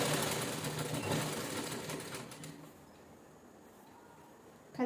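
A sewing machine stitches a jeans top in a straight seam, running steadily and fairly loud for about two and a half seconds before dropping to a quieter, fainter hum.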